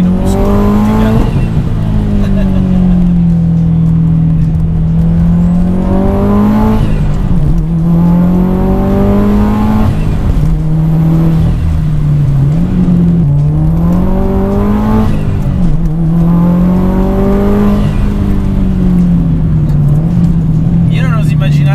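A 428 hp Subaru WRX STi engine revs hard through repeated accelerations, its note rising and dropping with each gear change, loud and close from inside the car without any talking.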